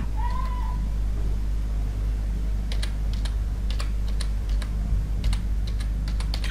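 Clusters of quick keyboard clicks from typing on a computer keyboard, starting after a brief pause and continuing in bursts over a steady low background hum.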